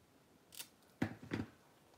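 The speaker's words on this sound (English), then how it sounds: "So now the gel is dry, so I can easily cut them out." Scissors snip through paper figures coated in dried 3D gel for a mixed-media craft, giving three short, close cuts spread over two seconds against a quiet room.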